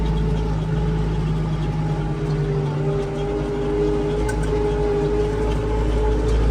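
A tractor pulls a three-body plough through black soil, its engine droning loud and steady at close range with a constant low hum that never lets up.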